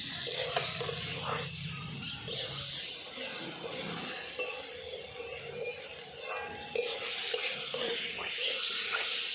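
Pre-fried potatoes tipped into a pan of sizzling, cooked-down masala, giving a steady close sizzle with stirring scrapes and faint birdsong in the background.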